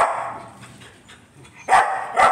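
A male dog at home gives a couple of sharp, close barks near the end, after a stretch of quieter whining and low rustling.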